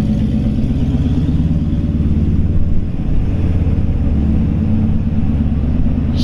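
A 1956 Chevrolet 4400 1.5-ton resto-mod truck drives and turns around nearby, its engine giving a steady, loud low rumble that holds throughout with a slight swell midway.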